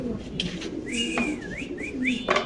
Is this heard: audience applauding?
no